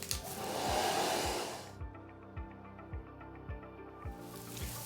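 A hair dryer blows on a gesso-coated canvas with a loud close whoosh that stops partway, leaving quiet rhythmic thumps before the airflow returns.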